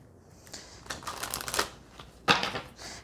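Tarot card decks being handled and shuffled, a run of close, crisp papery riffles and flicks in bursts with a sharper snap near the end, no voices.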